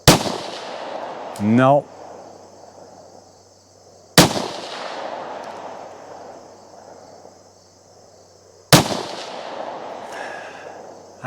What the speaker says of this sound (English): The sonic crack from this thing is so much louder than other pistols